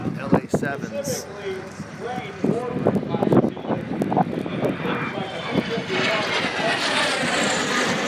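Pair of LA-7 planes passing overhead at the Oshkosh airshow, a steady engine drone that swells over several seconds amid crowd chatter and wind buffeting.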